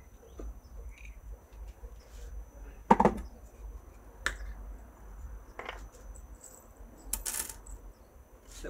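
A few sharp, light hammer taps spaced irregularly, driving small pin nails into wood for a mason bee house, with quiet pauses between them.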